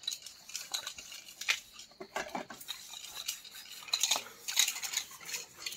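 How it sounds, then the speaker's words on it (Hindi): Dishes, plates and utensils being washed by hand, with steady clinks and clatters of metal and crockery, scraping and splashing, close and moderately loud with no talking. "यहाँ पे सब बर्तन धुल रहे हैं"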